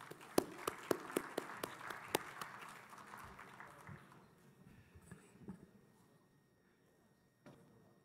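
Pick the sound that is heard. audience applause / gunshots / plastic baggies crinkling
audience applause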